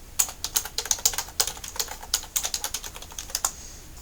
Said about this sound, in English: give me a second to type this.